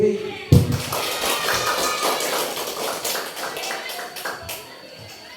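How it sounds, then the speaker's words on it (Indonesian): A group of teachers applauding themselves, a loud sudden burst of many hands clapping that carries on as a dense patter, with a thump at the start. "Kita tepuk tangan untuk diri kita sendiri."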